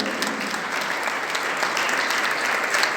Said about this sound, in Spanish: Den ese aplauso con todo su corazón.